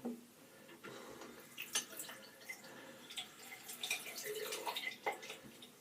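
Water from a tap runs and drips while a straight razor blade is wetted at a sink, with irregular splashes and trickles at close range and faint.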